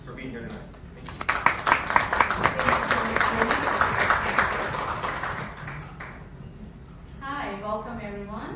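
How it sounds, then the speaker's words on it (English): Audience applause at a health lecture on heart failure, swelling into dense clapping for several seconds, then fading as a voice begins speaking near the end. "please join me in a round of applause"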